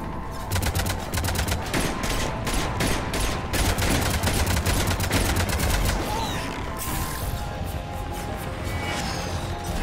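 Rapid gunfire from a Mass Effect 3 battle, including pistol shots, crackles in dense, loud bursts with overlapping impacts, then thins into scattered shots and lingering noise.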